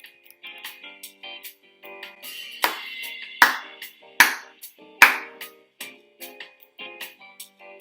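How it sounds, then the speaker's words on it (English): Hand claps beat out short rhythmic patterns in a music lesson, with a quiet ticking pulse running underneath and several louder, crisp claps standing out near the middle; close and dry, no talking. "now I'm going to start clapping rhythms that you are going to clap back to me"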